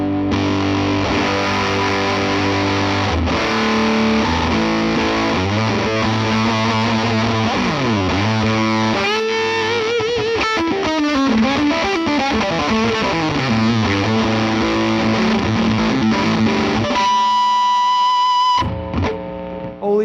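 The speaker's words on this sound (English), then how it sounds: "it sounds like a fuzz and it sounds fantastic. Very, very fuzzy." Electric guitar through an Electro-Harmonix Big Muff Russian fuzz pedal, thick, saturated and sustained, with chords and bends played continuously and loudly and a final held note that cuts off.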